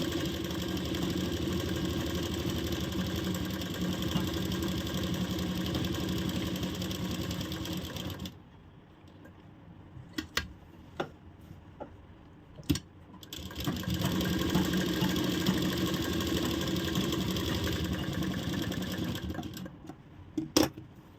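A sewing machine stitches a pocket, running in a fast steady whir for several seconds, stopping for a stretch broken by a few sharp clicks and taps, then starting again and running steadily almost to the end.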